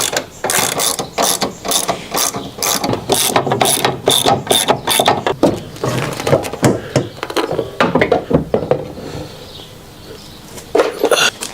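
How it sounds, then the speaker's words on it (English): A 15mm socket wrench ratchets rapidly to unbolt the top of a shock on a 2024 Ford Mustang, with loud close bursts of clicking and brief pauses as the bolt loosens, and no talk. "you're gonna need a 15mm socket wrench just to unbolt these"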